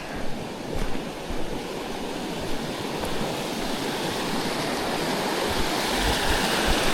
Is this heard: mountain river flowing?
yes